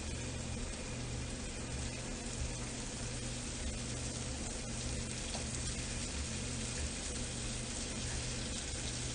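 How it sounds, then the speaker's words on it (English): Oil sizzles lightly and steadily in a rounded frying pan, a continuous crackling hiss that stays even throughout, with no talking. "that's kind of the noise you want, just a light sizzle there."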